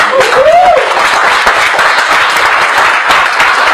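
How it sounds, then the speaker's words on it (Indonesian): Loud, sustained applause from an audience at a business talk in Indonesia, dense steady clapping filling the whole stretch, with a brief whistle or voice near the start. "Tepuk tangan dong"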